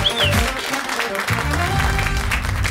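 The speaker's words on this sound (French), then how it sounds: "on peut applaudir très fort, mesdames, messieurs" Audience applause after a song at a live night show, a steady loud wash of clapping with musical tones and crowd voices mixed in throughout.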